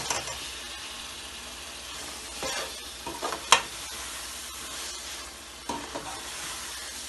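Tomatoes frying in a pan while making qeema aloo, a broadband sizzle with stirring scrapes and a sharp clatter midway, moderately quiet and without talk.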